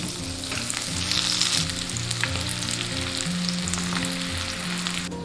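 Pork ribs and green peppers stir-fry in a wok, finished with white pepper and scallion oil. A loud, steady sizzle and crackle runs close throughout, with faint clinks of stirring and no talk.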